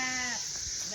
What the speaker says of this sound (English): We have 6 ewes.